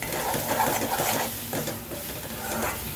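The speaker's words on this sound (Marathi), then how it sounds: "आणि अजून एक सेकंद भाजून घेऊया हां आमचूल पण टाकूया" Fish masala with salt and dry mango powder roasts in a pan as a spoon stirs and scrapes, giving a close, steady sizzle layered with rhythmic scraping and light clinks, and no talk.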